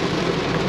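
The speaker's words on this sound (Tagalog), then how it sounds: "Ang lakas ng ulan." Heavy rain pours in a dense, steady roar, loud and close, with no pauses across the short stretch.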